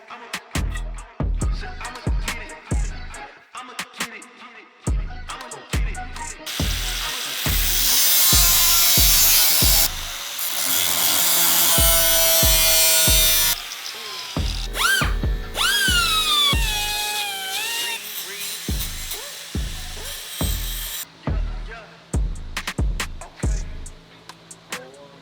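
A power tool trims a metal mounting bar on a car build, a loud close grinding whine in long bursts broken by sharp knocks and clatter.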